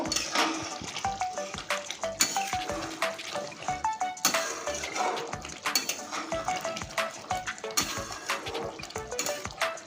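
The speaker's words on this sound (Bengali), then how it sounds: "এবার সুন্দরভাবে নেড়ে নেব" Chicken coated in ground garam masala stirred in a pot for a potato chicken curry, a spoon clattering and scraping against the metal in quick repeated strokes under a soft frying sizzle, close and fairly loud.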